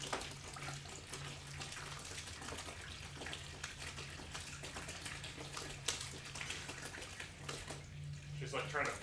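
A toucan bathes in running water from a tap, with continuous splashing and gushing throughout, and a person talks quietly over it.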